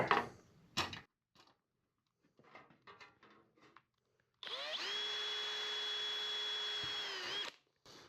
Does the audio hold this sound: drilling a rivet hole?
yes